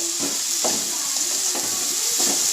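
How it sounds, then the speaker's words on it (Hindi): Spoon working haleem laddoo mixture around a pan, repeated soft scrapes and knocks in an uneven rhythm over a constant bright hiss of cooking, close and moderately loud. "चम्मच हम ऐसे ही चलाते रहेंगे वरना"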